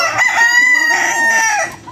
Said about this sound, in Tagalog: Ayan po ang ating broodcock na Boston Roundhead.